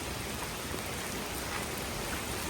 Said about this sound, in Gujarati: ગાંધીનગરમાં ફૂલ વરસાદ ચાલુ થઈ ગયો છે, તમે જોઈ શકો છો